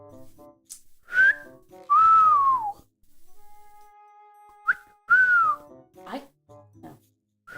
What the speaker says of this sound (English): whistling is so nice